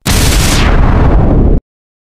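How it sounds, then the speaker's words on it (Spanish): A loud video-game explosion from a solar ray attack hits as one sustained blast of roughly a second and a half, then cuts off abruptly to silence. "hiciste una explosión"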